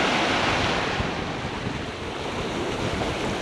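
Waves break and wash on a Lake Michigan beach at Indiana Dunes National Park, a loud continuous roar of surf mixed with gusting wind buffeting the microphone, with no voices.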